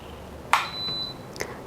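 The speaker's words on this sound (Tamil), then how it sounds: "பீப் சவுண்டு வந்துருச்சுங்க, முடிஞ்சிருச்சு." An electric milk maker gives a short electronic beep when its cottonseed milk cycle finishes, with a click before it and another faint ping shortly after, in a quiet kitchen.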